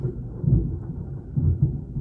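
Low rumbling thunder rolls after lightning, a muffled, distant boom swelling twice over a couple of seconds.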